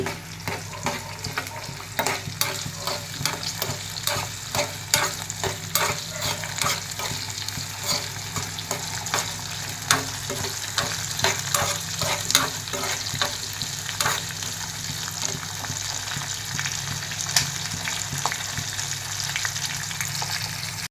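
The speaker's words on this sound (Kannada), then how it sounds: "ಇವಾಗೆಲ್ಲ ಫ್ರೈ ಮಾಡ್ಕೊತಾ ಇದ್ದೀನಿ" Spices fry in a pan, giving a continuous soft sizzle broken by frequent stirring scrapes and light clicks at an uneven pace, moderately close and with no voices.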